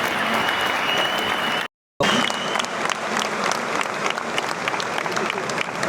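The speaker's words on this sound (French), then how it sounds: "toute la salle l'a ovationné" Poker tournament hall crowd at the Winamax Poker Tour launch in Toulouse giving an eliminated player a loud, dense ovation of many clapping hands, sustained throughout with a brief cut, with voices mixed in.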